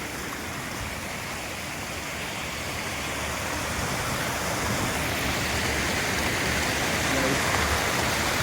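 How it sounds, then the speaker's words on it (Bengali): Strong rushing water at a waterfall, a steady dense roar that swells slightly louder toward the end, heard close with no other sounds standing out. "দেখুন জলের কতটা স্রোত যাচ্ছে গাইস।"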